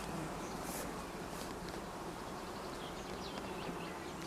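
Honeybees buzz around a hive that wintered on five frames, a continuous close, steady hum with the flight line passing right by, no talking.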